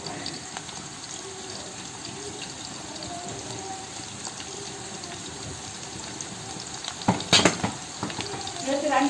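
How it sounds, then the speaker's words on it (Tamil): Onions sauté in a pan until golden brown for dum chicken biryani, with a soft continuous frying hiss and a few louder stirring clatters near the end. "கோல்டன் ப்ரௌன் கலர் வர வரைக்கும் வெங்காயத்தை நல்லா வந்து வதக்கிடலாம்."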